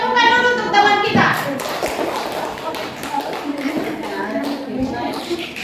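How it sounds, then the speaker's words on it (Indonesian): Classroom clapping for a classmate who has just finished a group presentation, a short burst of many hands close by that follows a voice and tails off under continuing talk. "Beri tepukan dulu untuk teman kita."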